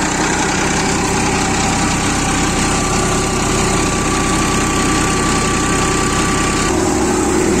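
A steady, loud engine drone from a tractor-driven threshing machine running fully loaded, thrumming and rattling close by with a constant low rumble.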